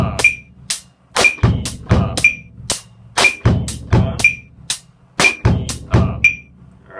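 A close, loud drum kit plays a repeating pattern with syncopated bass drum hits on the e and the and after two, plus crisp snare and bright cymbal strikes, with no talking.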